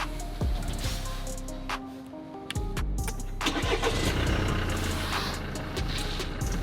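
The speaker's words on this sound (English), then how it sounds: "the car should start" A Mercedes C-Class W205, wrecked and being driven for the first time, cranks and fires up its engine, a short starter whirr giving way to a loud close idle that settles in and runs on.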